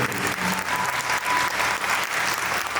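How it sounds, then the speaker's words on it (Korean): Warm, dense applause from wedding guests at a Gwangju wedding hall, honoring the mothers of the bride and groom; a steady, full wash of clapping with no break throughout. "신랑 신부 어머님께 인사, 네, 뜨거운 박수를 부탁드리겠습니다."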